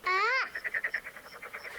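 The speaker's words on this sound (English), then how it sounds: "I love the sound of frogs at night, like out in the summer." Frogs croak on a summer night in a short run of rhythmic, rapidly pulsing calls, fairly close and clear, opening with one longer sweeping call and then a string of quick bubbling croaks.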